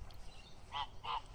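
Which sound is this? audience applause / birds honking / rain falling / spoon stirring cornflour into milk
birds honking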